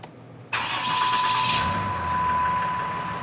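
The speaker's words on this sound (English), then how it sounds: "The first step in programming the trip speed is to start your engine." A vehicle engine cranks and fires up about half a second in, then settles into a steady, close idle with a high whine running through it, ahead of programming a PH3 PowerHalt air intake emergency shut-off valve.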